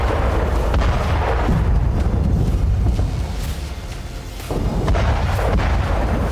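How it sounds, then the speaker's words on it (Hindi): Kamikaze drones explode against Russian tanks in Ukraine, producing heavy, rumbling blasts and booms that roll on continuously, dip briefly to a quieter stretch, then swell again. "कामिकाजी ड्रोन टैंकों से टकराकर धमाके कर रहे हैं"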